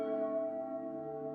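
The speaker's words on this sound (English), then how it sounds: "The grand castle bells rang for all to hear." Grand castle bells ring in a fairytale kingdom, a sustained, bright metallic tone with layered overtones that hangs evenly and slowly fades, heard alone without voices.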